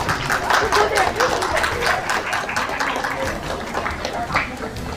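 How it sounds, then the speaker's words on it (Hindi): An audience claps at a launch event, scattered hand claps forming a brisk, uneven patter under a speaking voice that continues over the noise. "Please everyone put your hands loud together."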